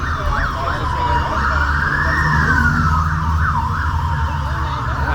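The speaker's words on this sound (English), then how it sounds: "behind me, that's a couple of ambulances that are ready in case things go wrong" Ambulance siren wailing at Horse Guards in London, a steady loud rising and falling two-tone sweep with a faster yelp pattern, continuous over low traffic rumble, fairly close.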